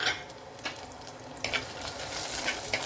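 Ginger, garlic cloves and green chillies fry in hot oil for a tuna fish curry, a continuous close sizzle broken by a few sharp spatula scrapes and stirs.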